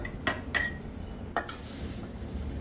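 Curry leaves go into a clean bottle as a few light clinks and taps of glass and metal sound, followed by a soft rustling settle, close by and quiet.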